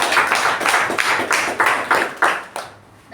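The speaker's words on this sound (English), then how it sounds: "He deserves another round of applause." A room of people at a Toastmasters meeting applauding, a short burst of rhythmic clapping close by that trails off into quiet after about three seconds.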